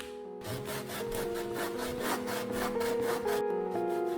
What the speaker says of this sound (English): I cut out all of the pieces from just regular old wood that I had in my shop, and then I sanded it all down